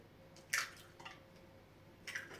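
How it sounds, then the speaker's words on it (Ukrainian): Eggs are cracked into a bowl, with a couple of sharp close cracks and wet drips spaced apart against a quiet kitchen background. "Розіб'ю яйце. І так три штуки."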